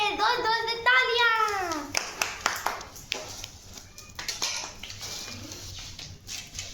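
Family members at home clap their hands in a scattered, uneven burst of separate claps after a voice is heard, with a few household clinks in a quiet room.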